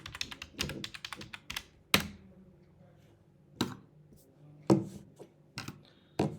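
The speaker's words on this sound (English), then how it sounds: "let me type this one here also" Typing on a computer keyboard, sparse clicking keystrokes in short clusters with pauses between, close and fairly quiet, with no talking.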